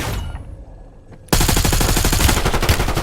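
Gunfire in the video game Warzone: after a quieter second, a loud, sustained burst of rapid automatic shots erupts and continues without pause to the end.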